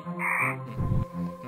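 Frog croaking in the video game Reincarnation: A Demons Day Out, a short ribbity croak standing out over game music and effects, with nobody talking.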